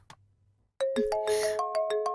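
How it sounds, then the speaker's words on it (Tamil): A phone rings with a bright electronic tune of stepped rising tones, loud and close, starting abruptly after a brief quiet moment with a faint sound beforehand. "ஏ ஃபோன் தான், ஏ ஃபோன் தான்."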